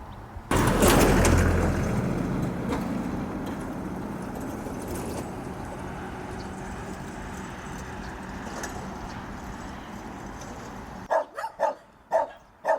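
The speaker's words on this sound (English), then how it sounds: "Something I also really enjoyed were my encounters with these fiercely loyal guard dogs" Guard dogs in the Korean countryside give a few sharp barks at the very end, after a long stretch of steady engine-like rumble, loud and fairly close.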